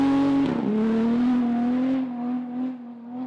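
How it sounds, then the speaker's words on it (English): A Honda Jazz rally car with a rear-mounted V6 engine races on a gravel rally stage, its engine note loud and close, rising sharply then holding a strained, high-revving drone before easing off as it pulls away. "Strong's Honda Jazz with a V6 engine in the rear is the most radical car in the class."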